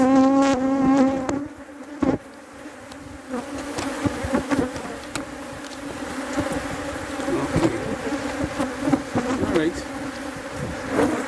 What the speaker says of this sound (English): I sufficiently agitate them there now. I have bees all over the place.